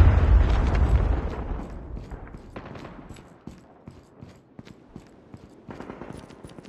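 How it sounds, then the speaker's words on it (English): A Predator missile explosion in a video game opens with a heavy, loud boom that rumbles and decays, followed by scattered crackling gunfire and smaller pops in the distance. "Hostile Predator missile inbound."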